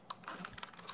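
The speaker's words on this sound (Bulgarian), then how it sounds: "тежка, масивна клавиатура." Fingers type on a solid, heavy, massive mechanical keyboard, about a dozen quick, quiet clicks in an uneven burst, close and isolated with no voices.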